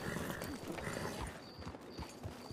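Hooves of a horse clip-clop at a steady walking pace on a hard surface, fairly faint, with a high whine running through and no clear talk.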